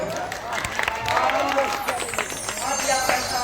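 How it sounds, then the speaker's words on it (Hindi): Loud, sustained applause and cheering from a live audience at a stage play, welcoming a debut actor, a dense wash of clapping with crowd murmur running steadily throughout. "तो एक नवोदित कलाकार के लिए एक जोरदार ताली हो जाए।"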